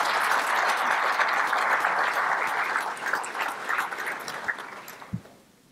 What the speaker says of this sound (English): please give Mr. Ricky an applause for his part one